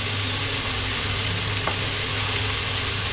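Chinese pechay (bok choy) sautéing in a pan, giving a steady, close sizzle of frying with faint stirring and a brief scrape partway through, no voices.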